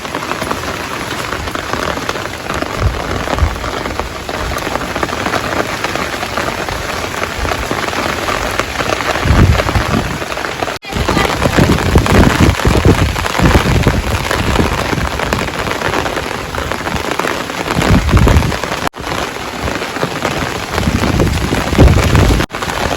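Heavy rain pouring down outdoors, a loud continuous roar of drops hitting surfaces close by, swelling in a few heavier bursts and broken by brief cuts.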